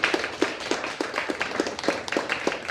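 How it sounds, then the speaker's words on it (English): Hands clapping at a panel discussion in a Tucson café, Espresso Art Cafe: fairly close, crisp claps in a regular, evenly spaced rhythm over a light bed of scattered applause. "one last big, gigantic round of applause, not only for our panelists, but for Espresso Art Cafe"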